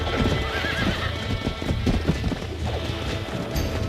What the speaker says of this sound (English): o cavalo tá correndo em círculo